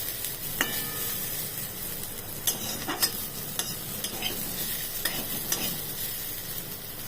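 Young jackfruit with dried fenugreek leaves (kasuri methi) frying in a kadai: a steady, close hiss of oil with scattered scrapes and taps from a stirring spoon, no voices.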